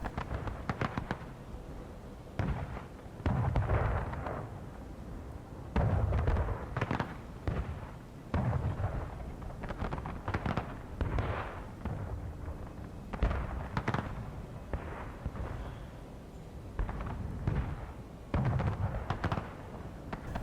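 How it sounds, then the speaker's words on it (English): Union artillery firing during a Civil War video game battle in the Maryland Campaign, with repeated booming shots and explosions sounding in irregular bursts, some close and loud, others more distant, over a continuous rumbling battlefield background. "Very good artillery shots from the Union. Definitely shooting around that general area."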